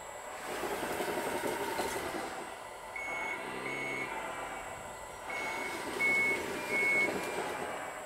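A landfill compactor (sheepsfoot roller) backs up, its reversing alarm sounding repeated evenly spaced beeps over the rumble of its engine, with no talk.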